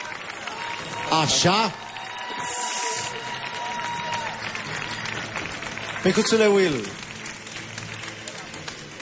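Audience applause after a salsa dance by a celebrity couple on a televised dance show, a steady clapping bed running under a man's speech, with brief louder swells.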